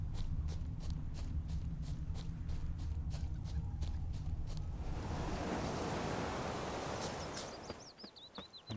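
Horse hooves clip-clopping at a steady trot in The Witcher 3, rhythmic thuds over a broad rushing wash of ambient noise that swells midway, with faint chirps near the end.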